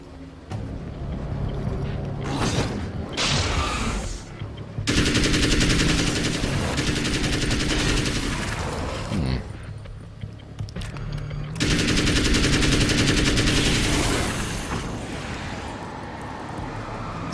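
Heavy automatic gunfire in the video game Alan Wake's American Nightmare comes in loud, sustained bursts, separated by brief lulls and quieter stretches.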